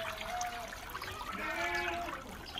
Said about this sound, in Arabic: الآن بعد ما نشيله نخليه ينزل ماء كامل داخل السطل هذا